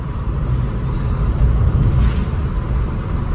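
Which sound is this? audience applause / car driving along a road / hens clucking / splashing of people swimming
car driving along a road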